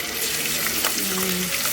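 Garlic and cumin frying in oil in a pot in a village kitchen, a steady close sizzle with a brief low tonal hum partway through.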